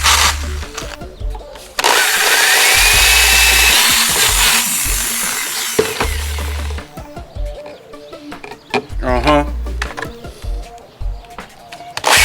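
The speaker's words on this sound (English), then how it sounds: "This drill motor's about to take a shit" An electric drill with a worn, failing motor bores holes while mounting a transducer to a trolling motor. Several loud whirring bursts come up close, with clatter and knocks in the gaps.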